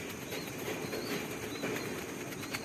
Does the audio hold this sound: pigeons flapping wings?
yes